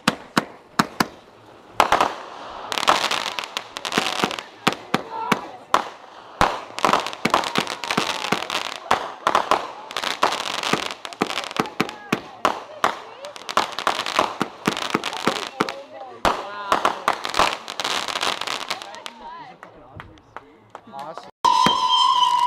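Canada Day fireworks bursting in a rapid, sustained barrage of loud sharp cracks and booms, dense crackling shells going off in quick succession for most of the stretch, with voices chatting underneath before a brief lull and a final whistle near the end.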